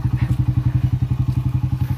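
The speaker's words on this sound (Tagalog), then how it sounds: "Yung phone ko nandun sa may motor." A motorcycle engine idling close by, a loud, steady rapid thumping pulse with no talk.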